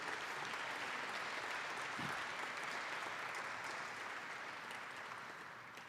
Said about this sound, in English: give Bob a round of applause